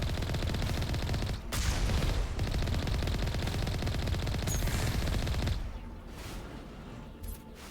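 Turrets in the video game Mass Effect unleash loud, sustained automatic fire, a continuous rattling burst that runs several seconds before dropping off to quieter intermittent shots.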